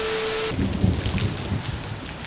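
Steady rain from a film scene falls in a dense hiss, with faint low rumbles beneath suggesting a distant thunderstorm, no voices over it.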